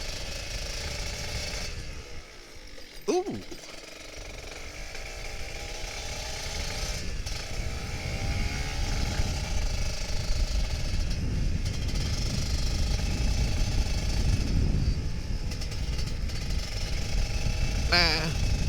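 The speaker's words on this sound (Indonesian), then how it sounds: "Ntar gue harus geber dulu." A Kawasaki Ninja RR 150 motorcycle engine idles loudly and steadily, with a brief rev near the start and the drone building slightly; a short grunt is heard.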